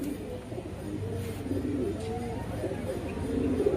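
Pigeons coo softly at a pigeon race, low repeated throaty calls running steadily under faint background noise, close but quiet.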